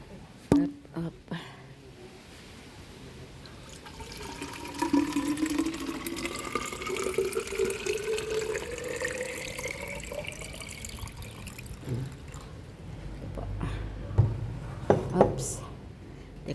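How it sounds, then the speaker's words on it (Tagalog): Water poured into a container, a steady rushing fill that rises in pitch as it fills, with a person talking over it and some knocks and clatter near the end. "Ito, lalagyan ko ng tubig."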